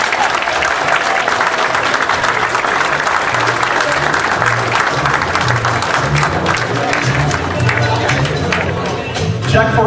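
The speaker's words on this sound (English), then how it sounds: "Applause." Sustained audience applause fills a hall at a 21st anniversary bash for the Valley Patriot, honouring a donation to feed the homeless; dense, loud clapping with crowd noise and some voices mixed in throughout.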